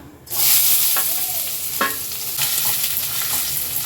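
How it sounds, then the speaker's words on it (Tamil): Chopped onions for chana masala sizzle and fry in a pan, with a steady loud hiss and occasional scrapes of a spoon stirring, no voices. "இப்போ இந்த வெங்காயம் வந்து பார்த்திங்கன்னா நல்லா ப்ரௌனிஷாக நல்லா வதக்கிடுங்க"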